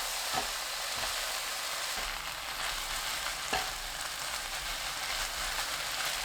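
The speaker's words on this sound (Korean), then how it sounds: "양념, 파 넣고 1분 볶습니다." Bean sprouts and fish cake with seasoning and green onion stir-fry in a pan, a steady close sizzle with occasional scraping stirs, continuous and alone without talk.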